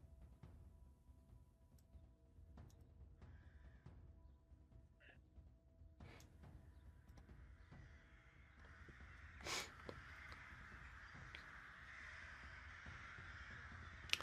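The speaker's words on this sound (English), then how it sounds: "Romulus, suddenly you hear cawing all around you" Crows or ravens caw repeatedly as a sound effect in a tabletop roleplaying session, brief harsh calls scattered over a low steady background, building into a denser wash of sound toward the end.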